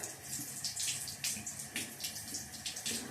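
Tap water runs in a faint, steady stream while an electric toothbrush is rinsed beneath it, the flow splashing unevenly in soft bursts.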